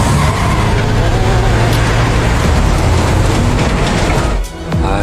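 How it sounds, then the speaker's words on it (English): A truck speeds past on a roadside, a loud, continuous roar of engine and tire noise filling the whole stretch, close and overwhelming, dipping briefly near the end before surging again. "suddenly a truck rushed by at high speed,"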